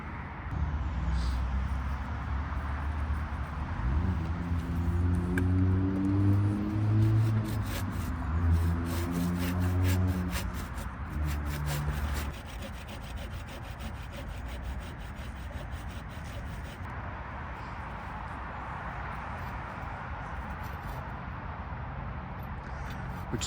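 A handsaw cuts a groove in wood ahead of a chainsaw cut during a bee rescue outdoors. Steady back-and-forth rasping strokes run close and loud for much of the stretch and then settle into a quieter rubbing.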